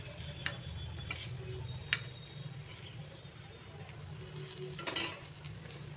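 Onions sizzle softly in a pan with a little salt added, a low steady frying hiss with occasional light stirring clicks, faint and close, no talking.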